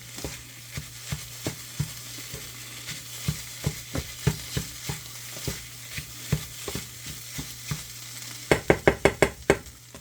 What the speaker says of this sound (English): We're going to cook our eggs in with the vegetables.